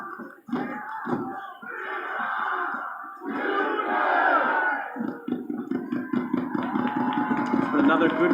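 Stadium crowd noise at a Monterey Bay FC soccer match against El Paso at Cardinale Stadium in Seaside, a sustained roar of voices with rising chants and shouts that swells steadily louder toward the end.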